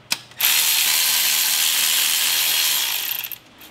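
Rapid ratchet clicking from a hand ratchet as fuel rail bolts come off a lower intake manifold, a continuous close, loud burst lasting about three seconds, with no talk over it.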